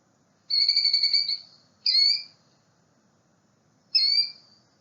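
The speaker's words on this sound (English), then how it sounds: "The first ground nesting species we'll talk about is the killdeer, which has a sound like this." A killdeer, a ground-nesting bird, calls three times: a longer trilled note, then two short, sharp cries separated by pauses. The calls are clear and close against a near-silent background.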